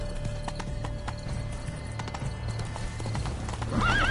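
A horse in a PS4 video game trots with rapid, even clip-clop hoofbeats, then gives a loud rising neigh near the end.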